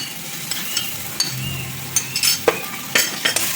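Spice paste of green chilli, garlic, ginger, Kashmiri chilli powder, salt and turmeric fries in a pan for an egg curry, with steady close sizzle broken by a few scraping stirs and clinks of the spoon.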